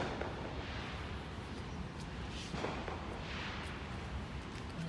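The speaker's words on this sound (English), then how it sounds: "there goes the fireworks" Distant fireworks booming and crackling outdoors in a steady low rumble, with scattered faint bursts and no one talking.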